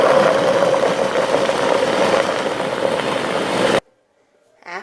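A blender chops coconut with a cup of warm water, a loud steady whirring motor running for nearly four seconds before stopping abruptly, then a faint sound afterward.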